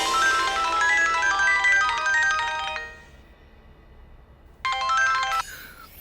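A phone's melodic ringtone announces an incoming call, loud and close, playing a repeated tune for about three seconds, pausing, then starting again briefly before cutting off, with no talking.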